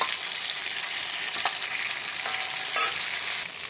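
Chili paste hits already-fried potatoes in a hot pan while cooking a fish roe and potato curry, a steady close sizzle with stirring clinks and a sharper scrape near the end; no talking.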